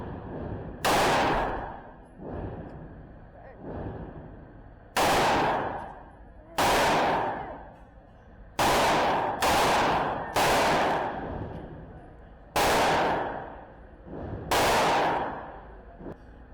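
Glock pistol shots ring out one at a time on a range while sighting in, about nine sharp loud reports spaced a second or more apart, each trailing off in a ringing echo.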